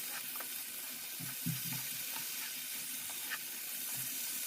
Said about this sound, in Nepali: अब बिर्को खोलेर फेरि हामीले चलाउनुपर्छ, मजाले फ्राई हुन्छ।